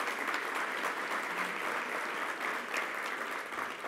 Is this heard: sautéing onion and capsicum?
no